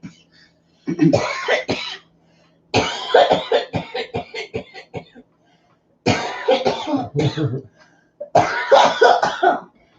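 Several bursts of coughing and throat clearing come in separate clusters with pauses between them, close and fairly loud, with no talk.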